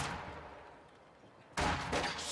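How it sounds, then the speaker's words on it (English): Video game battle with a rifle grenade and gunfire: a low rumble of distant combat, then a sudden loud burst of blasts and shots that keeps crackling to the end. "Dodges that rifle grenade nicely."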